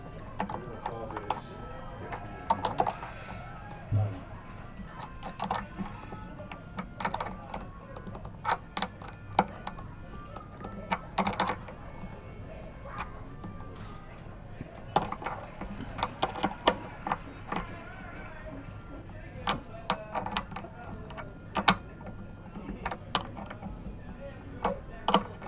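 A wrench tightening guitar machine heads at a workbench, giving a long run of small metallic ticks and clicks in an uneven rhythm, close and fairly soft, against a steady low background hum.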